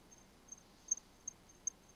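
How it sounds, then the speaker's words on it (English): Crickets chirp faintly at night, soft high pulses repeating irregularly over a quiet background, with a few slightly louder chirps standing out and no voices. "These crickets are an unfortunate soundtrack."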